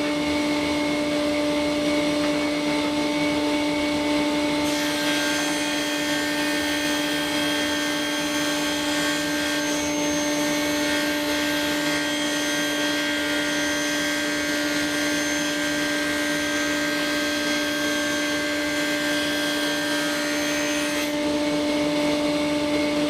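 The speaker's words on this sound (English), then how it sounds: "The overall height of the trays is 120 millimeters, and that's what I'm cutting now for the width." A power saw rips wooden stock to a 120 mm width for workshop pullout-shelf trays. A steady, loud machine whine runs throughout, with a harsher broadband cutting roar from about 5 to 21 seconds, and no talking.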